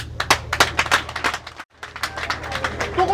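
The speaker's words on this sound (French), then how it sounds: "Je demande à tous mes collègues ici présents d'applaudir." Colleagues in an assembly break into scattered applause, a run of quick, sharp claps that keeps going nearby, briefly drops out, then picks up again with voices mixed in.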